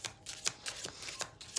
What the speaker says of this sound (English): I'll get a few cards out